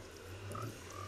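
A frog croaks in the Minecraft video game while it is being led toward a Nether portal. Soft repeated croaks sit over a steady low game hum, fairly quiet and with no talking.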